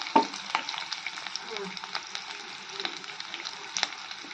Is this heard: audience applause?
no